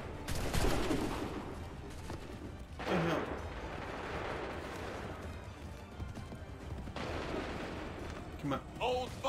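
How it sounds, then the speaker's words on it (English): Musket volley in Assassin's Creed III, a rattling burst of gunfire with hoofbeats and battle clamor underneath, fairly faint in the game mix and repeated in waves. "Open fire. Prepare yourselves. Fire now."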